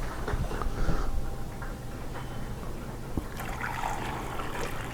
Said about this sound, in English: Pour the juice in there.